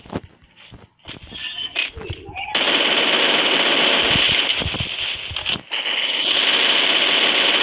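Rapid automatic gunfire rattles loudly and continuously in a video game, following a few earlier scattered shots and footstep-like thuds, with a player's voice heard briefly.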